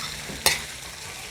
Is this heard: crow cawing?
no